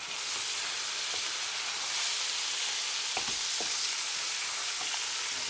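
Whole spices, a cinnamon stick broken in half and ginger garlic paste sizzle steadily in hot oil for a lamb chop karahi: a close, continuous frying hiss with a few small crackles and pops.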